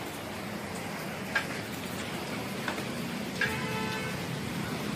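Steady monsoon rain at Malshej Ghat hisses evenly throughout, with a few faint knocks and a passing vehicle-like hum in the background and no voices.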